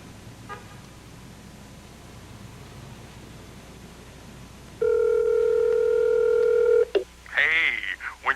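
A landline telephone is dialed in a 1987 television drama: after several seconds of quiet room tone, a loud steady dial tone sounds, then a quick run of touch-tone keypad beeps follows at close range, with no talk.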